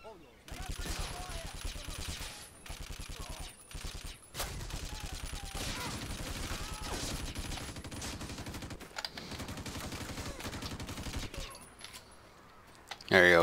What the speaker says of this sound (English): We'll provide covering fire